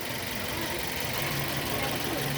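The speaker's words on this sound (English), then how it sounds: "I'm going to come out of this mode so the vehicle could idle normal, and we'll see where it sits at normal idle operation" A 2006 Nissan Y11 AD with a QG15 engine and electronic throttle idles normally, giving a steady, even hum with no sharp changes throughout.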